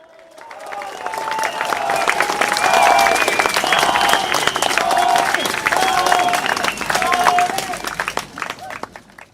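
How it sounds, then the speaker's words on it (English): A rally crowd applauds and cheers steadily for about nine seconds, dense clapping with shouts mixed in, swelling in the middle and fading toward the end. "Can we have one more round of applause? I'm going to ask you to clap more now and even louder."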